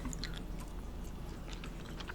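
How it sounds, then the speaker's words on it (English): Quiet, close chewing with soft wet clicks and crunches repeating irregularly, with no talking. "And also, I am chewing."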